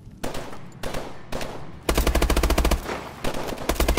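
Loud automatic gunfire in Call of Duty Advanced Warfare: short bursts at first, then a long rapid stream of shots followed by another burst, all close and with no talking.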